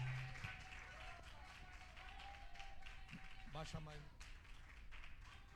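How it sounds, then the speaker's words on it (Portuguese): Church congregation clapping at a worship service, a steady, brisk run of hand claps that continues under a speaking voice. "vamos receber o nosso pastor com as palmas bem forte"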